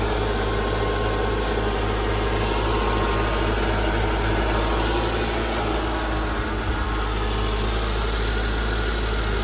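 A 2002 Mercedes-Benz S55 AMG sits idling just after a cold start, its engine giving a steady, loud, deep rumble with constant vibration throughout and no voices.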